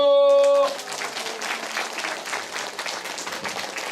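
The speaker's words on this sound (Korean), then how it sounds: "박수" A brief held musical note cuts off, and a church evangelism festival congregation follows with a full, steady round of applause that carries on evenly to the end.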